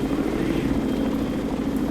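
Helicopter hovering low for a rescue pickup in the naval combat game Sea Power, its rotor and engine a steady, continuous drone with a deep hum underneath, close and unbroken throughout.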